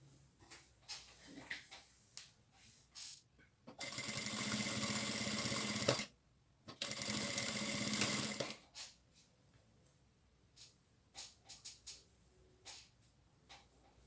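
A sewing machine stitches across three fabric scraps in a creative patchwork square, running in two close bursts of a couple of seconds each, separated by a short pause, amid quiet handling noises.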